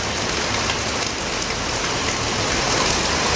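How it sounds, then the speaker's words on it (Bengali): Heavy rain pours down steadily outside a home, a dense, close, unbroken hiss that holds evenly throughout, with no voices. "কি বৃষ্টি ওর আব্বু দুপুরে খায়ে ঘুমাইছে আর এই সময় বৃষ্টি হুন্ডাটাও ভিজে গেল দেখো"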